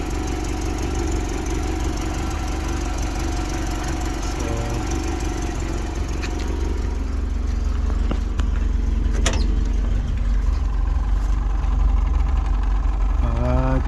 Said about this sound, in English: It is warmed up and idle is very good.